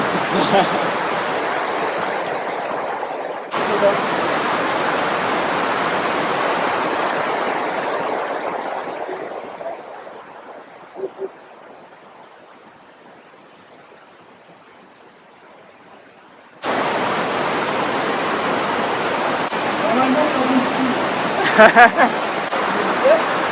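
Water rushes inside a cave during caving as a loud, steady broadband roar that fades out for a while in the middle before abruptly returning at full strength.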